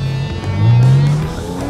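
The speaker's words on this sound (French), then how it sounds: "J'ai mis échappement sport, que ça fasse un petit bruit encore plus sympa." A Porsche GT4 RS with sport exhaust accelerating hard on a race track, giving a loud, close engine roar whose pitch climbs and then holds steady over a short burst.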